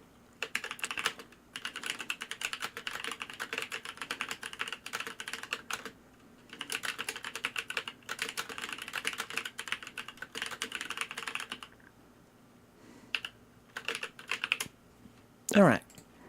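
A computer keyboard is typed on in long, quick bursts of close, soft clicking with brief pauses, thinning out into a few scattered keystrokes near the end.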